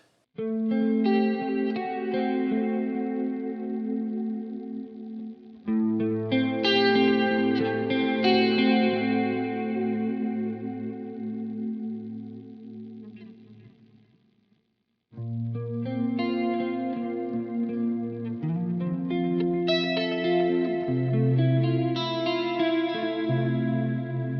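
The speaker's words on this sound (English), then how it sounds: "if we mix that with a super chorus and a reverb" Electric guitar runs through Boss Super Chorus and reverb pedals, lush shimmering chords and notes ringing out in two long passages separated by a brief silence, with a wide, swirling wash and no voices.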